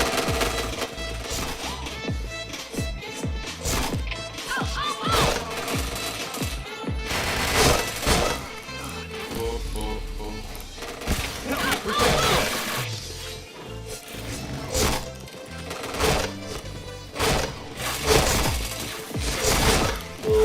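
Rapid gunfire and bursts of shots from the PointBlank first-person shooter game, dense and loud throughout, with sharp impact cracks over continuous background game audio.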